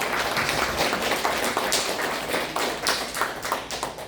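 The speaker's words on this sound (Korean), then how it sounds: "여러분께 박수를 한번 해주세요." An audience at a training session for a mothers' reporter group applauds, dense continuous clapping that swells and fades in waves over about four seconds, loud and close.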